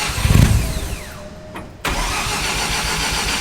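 A rotary-swapped Datsun 1200 engine is cranked and catches, settling into a loud, steady idle after a brief starter whir close by.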